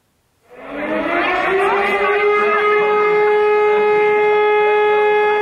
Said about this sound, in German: Wenn mitten am Vormittag die Sirene aufheult, so wie am 18. Juni in Hallein, heißt das normalerweise nichts Gutes.